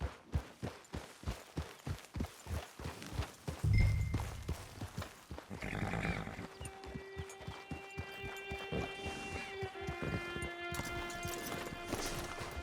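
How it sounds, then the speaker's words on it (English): Hooves clip-clop in a steady walking rhythm on a horse in Red Dead Online, close and distinct, then a thud and a softer stretch under a sustained musical tone. "It's your horse."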